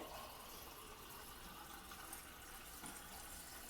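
Eight ounces of plain tap water pours steadily into a saucepan of cornmeal, a continuous soft rushing splash with no talking.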